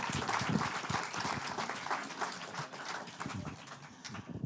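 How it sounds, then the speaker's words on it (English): A forum audience applauds the District 10 candidates at a 2019 Denver city election event, producing dense, steady clapping for several seconds that eases slightly toward the end. "Let's give them a round of applause"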